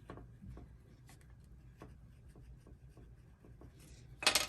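Short scratchy strokes of a pencil marking on tape, a few quick scribbles close up, followed by a brief rustle at the end.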